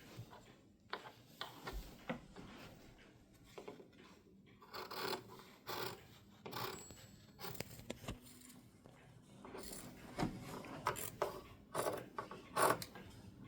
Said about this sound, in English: now I am cutting it according to my outline